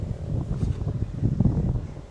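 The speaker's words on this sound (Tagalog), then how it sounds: "napalakas ng hangin" Steady gusting wind buffets the microphone with a low, rumbling roar and no voices.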